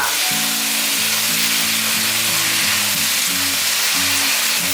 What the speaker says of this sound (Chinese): 把9层塔加进来，快速的拌炒。